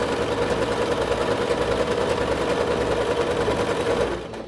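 A Singer SewMate 5400 sewing machine stitching a multi-stitch zigzag along a fabric edge, a close, steady mechanical hum and buzz running continuously before cutting off just at the end.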